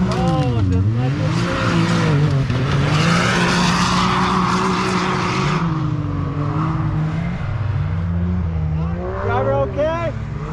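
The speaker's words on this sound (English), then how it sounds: "this dude blows this corner, hits this tree, tries to get back on, rolls it" A UTV race car at a Red Bull event at Little Sahara roars through a corner with revving and tire skids, then crashes into a tree and rolls, loud and continuous with shouting voices over the engine.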